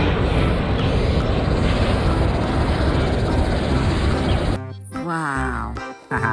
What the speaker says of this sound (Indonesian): Ada pesawat.